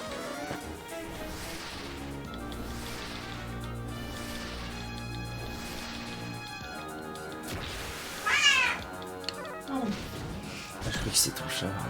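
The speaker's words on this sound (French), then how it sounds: "Je crois que c'est ton chat." A cat meows a couple of times over game music and sound effects from Dragon Quest IX, its cries short and fairly clear against the busy background.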